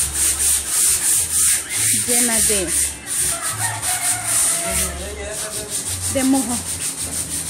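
Steady rhythmic scraping of sandpaper rubbing back and forth by hand over wooden railings, loud and close, with a person briefly talking over it.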